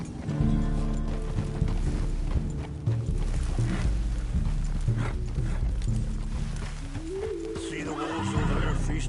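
Horse hooves clip-clop steadily while riding in a PS4 game, with whinnies and neighs over a continuous bed of music and ambient sound, and voices talking throughout.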